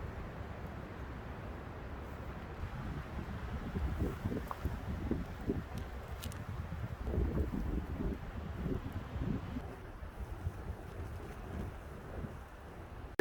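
Wind gusting steadily across an open mountain campsite, a continuous low rumble and buffeting on the microphone that swells and eases throughout, with no voices.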